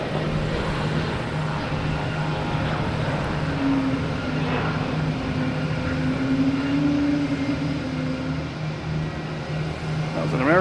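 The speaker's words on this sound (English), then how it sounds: "That was an American heading to JFK, E175." An American Embraer E175 airliner takes off from Logan Airport, its engine roar a steady broadband rumble heard from a distance with a rising whine, and a voice speaks briefly over it.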